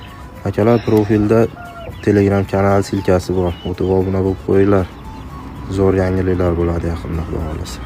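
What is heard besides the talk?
rooster crowing and clucking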